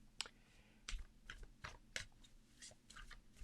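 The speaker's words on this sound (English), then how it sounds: "Shuffle, shuffle, shuffle." A deck of Angels and Auras oracle cards is shuffled by hand, giving faint, close, irregular crisp snaps and riffles in quick short bursts against a quiet background.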